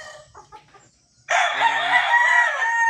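Gamefowl at a game farm: scattered soft clucks from a hen give way to a loud, sustained rooster crow ringing out close by, with no voices.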